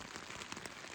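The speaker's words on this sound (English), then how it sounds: "It's around midnight and we have rain." Rain falls at midnight on a tent pitched in the desert in the Superstition Mountains, a faint, soft, continuous patter with tiny irregular taps on the fabric.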